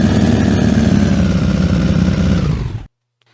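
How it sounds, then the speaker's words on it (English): Synthetic vehicle engine sound built with Unreal Engine 5 MetaSounds, a loud steady low rumble running continuously before cutting off abruptly near the end, leaving silence. "We start it, the engine starter goes off, the engine sound starts,"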